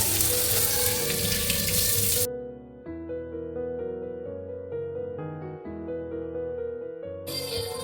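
Tap water runs in a home kitchen while eggs are rinsed before boiling, a steady gushing hiss at the start that cuts off, leaving a quieter tonal background, then returns briefly at the end.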